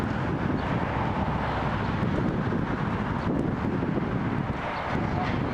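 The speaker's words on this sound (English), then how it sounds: "for the next aircraft, please enjoy this Dreamliner again on the British Airways" A British Airways Boeing 787-8 Dreamliner lands on runway 23 at Toronto Pearson, heard as a steady broad rush of engine and wind noise that holds level throughout, with faint voices in the background.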